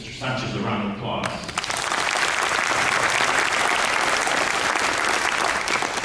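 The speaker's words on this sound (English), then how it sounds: "could you all give Mr. Sanchez a round of applause?" A conference audience in Texas bursts into loud, sustained applause for a teacher at a motivational talk, building quickly after a brief spoken moment at the start and holding as a dense, steady wash of clapping.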